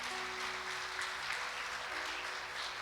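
Church congregation applauding during a Spanish-language sermon, a soft, steady wash of clapping heard at a distance and fairly faint, with a faint tonal hum underneath.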